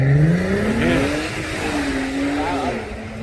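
A car engine revs loudly while the car stands still, a sustained droning roar that rises and falls in pitch over a few seconds, close and steady with no talking.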